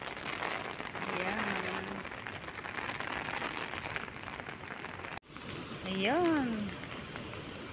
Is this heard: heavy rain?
yes